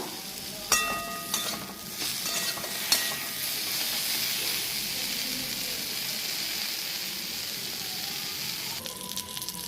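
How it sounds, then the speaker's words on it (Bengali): Slices of pointed gourd (potol) fry in a pan with a steady, close sizzle and crackle of hot oil. Scraping stirs sound in the first few seconds, and the frying continues evenly throughout. "আমার পটল ভাজাটা হয়ে গেছে, লালচে লালচে হয়ে গেছে"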